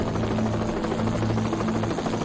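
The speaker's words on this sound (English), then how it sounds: "back to where the chopper can reach them" A rescue helicopter from an Alaskan air medical service hovers close by, its loud steady rotor drone and engine whine continuous throughout with no talk over it.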